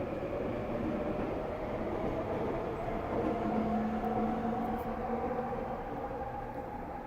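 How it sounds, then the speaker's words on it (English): A train passes nearby with a continuous low, heavy rumble and steady rolling noise that holds evenly for several seconds, with no voices. "I'm closer to the train, so it's going to be louder"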